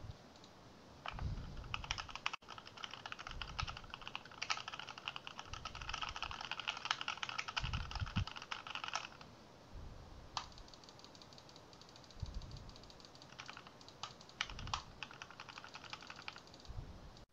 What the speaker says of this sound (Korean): 우선은 기능을 끈 상태로 키보드와 마우스 버튼을 눌러보겠습니다.